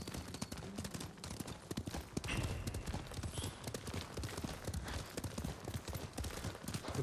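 Horses gallop in Ghost of Tsushima, a dense and steady clip-clop of hooves on the ground that stays close and loud throughout, with no talk over it.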